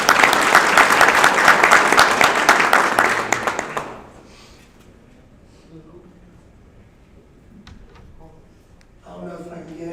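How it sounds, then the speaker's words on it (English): Loud, dense hand-clapping from a graduation crowd for a speaker who has just given a testimony, lasting about four seconds before it cuts off abruptly to quiet room tone, with a voice starting to speak near the end. "Just give him a hand clap,"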